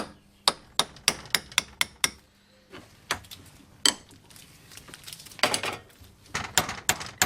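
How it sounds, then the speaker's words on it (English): Sharp metallic taps as back lock washers are knocked over on a Mini crown wheel during an engine rebuild, a quick run of about ten strikes followed by scattered, irregular knocks, close and clear, with no talking. "We need to tap back the lock washers and undo the 6 bolts to withdraw the crown wheel"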